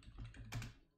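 Fast keyboard typing on a computer, retyping a command to launch Doom demo playback: a quiet, close patter of keystrokes with a brief louder cluster near the middle, no voices.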